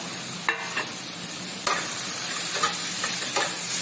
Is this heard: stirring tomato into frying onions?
yes